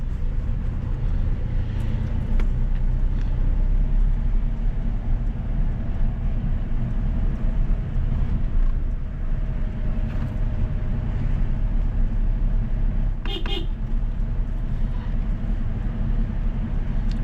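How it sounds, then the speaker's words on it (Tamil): A car is driven along a paved road in third gear, its engine and tyre noise forming a steady, loud, close rumble that holds without a break throughout, with no voices. "நான் வந்து என்னுடைய வண்டியை ஆன் ரோட்லேயே வைக்கிற மாதிரி ட்ரைவ் பண்ணிகிட்ருக்கிறேன்"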